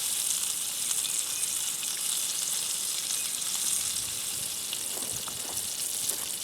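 A big, flat sausage patty fries in a pan of its own grease, giving a steady, close crackling sizzle that holds evenly throughout with no talking.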